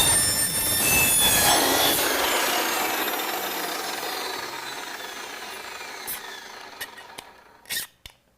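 A chassis tube being cut during frame assembly: a loud, whining saw cut winds down over several seconds, followed by quiet and a few sharp metallic clanks near the end.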